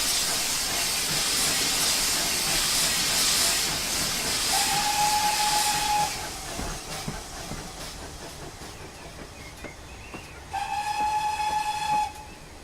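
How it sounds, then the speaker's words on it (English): A steady loud hiss of steam from a steam locomotive with its whistle sounding twice, the second blast brighter and harmonically rich. "As he left, Rebecca arrived with her passenger train."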